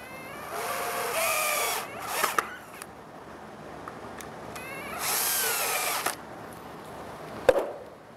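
A power drill drives screws into eastern white pine boards, with two sustained whirring runs and a few short bursts and clicks between them, close and clear against a quiet room.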